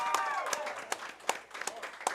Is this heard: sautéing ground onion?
no